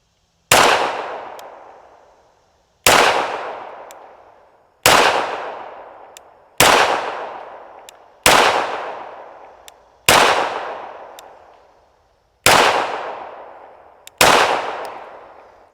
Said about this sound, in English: I want to shoot this now about 25 yards.